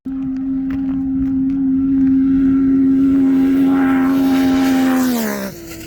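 Racing boats Sidewinder and TCat speed across a lake on radar runs, a loud, steady engine roar holding a sustained high pitch for several seconds before tapering and dropping off at the end.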